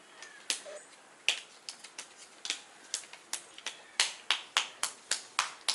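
A few people clap by hand at home, with sharp, separate slaps that start sparse and then settle into a quicker, fairly regular run of about a dozen claps, close by and quiet with nothing else underneath.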